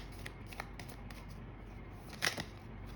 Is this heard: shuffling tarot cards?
yes